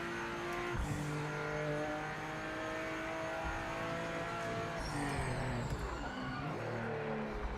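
Race car in Project Motor Racing on a Japanese track, engine droning and shifting pitch as the brakes lock up, with tires squealing and skidding partway through.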